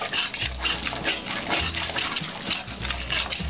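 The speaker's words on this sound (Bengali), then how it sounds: "আমি অল্প একটু জল দিয়ে দিচ্ছি।" Water poured in a small splash into Bengali boal fish curry spice paste of chilli paste, turmeric and salt, a brief liquid gush over steady broadband noise.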